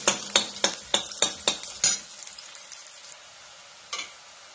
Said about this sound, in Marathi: कांदा चांगला भाजायचा आहे. थोडासा लालसर होईपर्यंत आपण भाजूया.